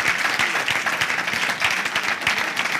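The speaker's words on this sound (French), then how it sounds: "Les femmes spontanément applaudissent" Women in a Pentecost church congregation applaud spontaneously, a dense, steady patter of many hands clapping together at close range, with no talking.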